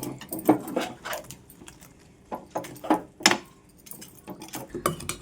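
Vegetable manchurian balls are stirred into sauce in a pan, with irregular clattering spoon-on-pan knocks and scrapes in uneven bursts, close and moderately loud, with no voices.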